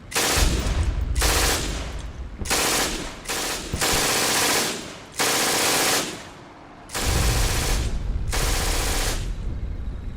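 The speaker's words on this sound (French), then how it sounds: "Julien, alias la Bible, tourna sa mitrailleuse vers la ligne d'arbres à gauche, et ouvrit le feu sans relâche." Machine gun sound effect in a French war audio drama, loud bursts of rapid automatic fire in repeated volleys separated by short gaps, close and dominant.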